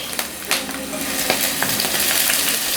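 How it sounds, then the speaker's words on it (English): Garlic and onion fry in hot vegetable oil in a pan, giving a steady, close sizzle with a few scraping stirs and clinks in a short burst. "you just heat up some vegetable oil in your pan. Go in with your garlic, some onion"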